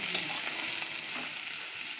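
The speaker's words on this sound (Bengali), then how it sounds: "পটলটা ভেজে নেব।" Pointed gourd fries in hot oil in a pan for a katla fish curry, a steady close-up crackling sizzle with a few stirring scrapes, brief and continuous, without speech.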